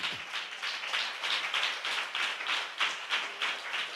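A church congregation claps along in a steady, even rhythm of roughly three beats per second, moderately loud and sustained, with no talking over it.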